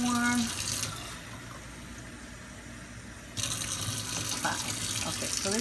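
Tap water runs into a rice cooker pot, starting with a strong gush, settling into a softer steady stream, then pouring harder again, with a few light clinks toward the end.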